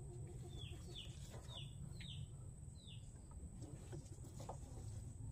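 Four penned chickens, thin from long confinement, make a few short calls against a steady low rumble of background noise, with no talk.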